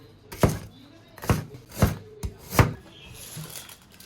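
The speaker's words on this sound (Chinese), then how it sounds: "再切点葱" Knife chopping scallions on a cutting board in a home kitchen, five or six sharp separate thunks spaced roughly half a second apart, close and fairly loud, with no talk over them.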